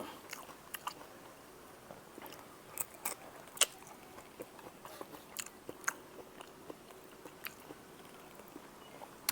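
Someone crunching and chewing a salad of blanched shrimp and squid, with close, irregular bites and snappy crunches over a quiet background and no talking.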